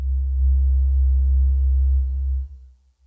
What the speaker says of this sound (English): So now I can have a sine wave.